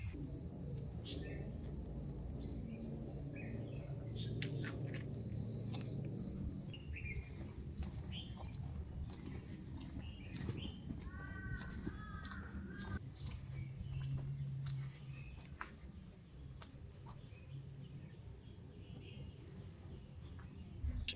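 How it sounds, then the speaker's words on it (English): Birds chirp and call at dawn among giant trees and tropical plants in Hong Kong, with scattered faint tweets and a few coos over a low, steady ambient rumble. "the sound of birds waking up for a new day"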